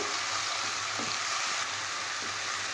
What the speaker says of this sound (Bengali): এবার এতে দিয়ে দেব এই যে আদা রসুন বাটা আর চেরা কাঁচা লঙ্কা এটা দিয়ে একটু ভালো করে কষিয়ে নেব